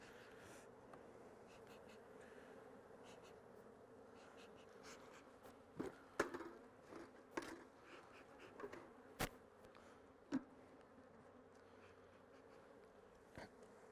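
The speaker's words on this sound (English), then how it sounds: "I'm going to shake these bees off" Faint buzzing of bees droning steadily during a beehive inspection at an apiary in New York State, with scattered sharp knocks and taps growing more frequent partway through.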